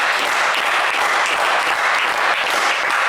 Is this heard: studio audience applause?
yes